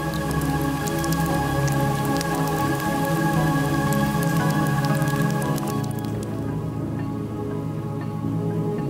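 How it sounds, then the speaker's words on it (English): Heavy rain falls steadily on volcanic mud in the Serengeti, a dense, continuous patter with sharp drips and splats close by, easing slightly toward the end. "rain churns the volcanic mud"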